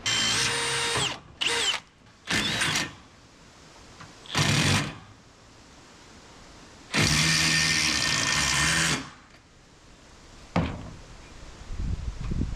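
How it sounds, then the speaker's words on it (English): A power drill whines through steel in several bursts while pre-drilling holes into steel and plywood inside a shipping container house, a few short ones, then a longer steady run, with quiet pauses and small clatters between. "we're going to pre-drill some holes into the steel here"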